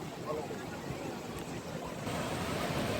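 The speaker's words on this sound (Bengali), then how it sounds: "সমুদ্রে অনেক ঢেউ, প্রচুর ঢেউ হচ্ছে।" Sea waves rolling in during rain at Cox's Bazar beach, heard as a broad continuous wash of surf mixed with wind rumble on the microphone, steady and fairly faint.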